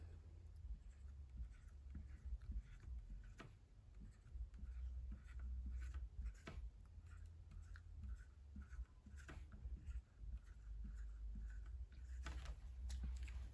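Pen or marker drawing an array by hand on a surface, a steady run of soft scratchy strokes and taps close by, with a low background hum and no talking.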